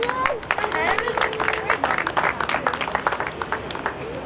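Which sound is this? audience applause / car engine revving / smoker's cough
audience applause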